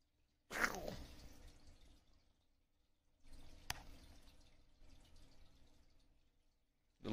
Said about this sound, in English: This is how pigeons bathe in jail.